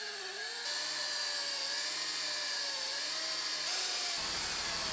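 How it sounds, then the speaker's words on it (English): A power polisher buffs the headlight of a Scion tC with buffing compound, giving a steady high whine whose pitch drifts slightly as pressure changes. It is close and continuous, and the motor shifts near the end. "Start buffing our headlight."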